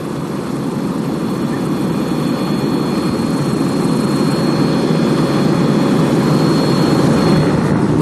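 Four 1,000-horsepower diesel engines on a big yellow racing powerboat roar at the start of the Cowes–Torquay–Cowes offshore race, a dense, continuous low rumble with steady loudness throughout.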